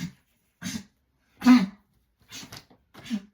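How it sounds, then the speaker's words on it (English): A dog gags and retches in five short, harsh, throaty bursts separated by silent pauses, close by and fairly loud, with no talking. "She did not throw up, but my dog just like was gagging."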